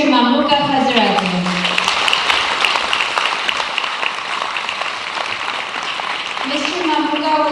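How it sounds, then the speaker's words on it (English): Steady applause from a crowd at a graduation ceremony fills the middle, with a voice speaking at the start and again at the end. "Please applaud"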